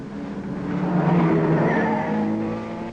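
Ferrari race cars at the 1961 Le Mans 24 Hours, engines roaring past as a swelling, then fading pass-by over about three seconds, fairly loud with a muffled old-recording quality.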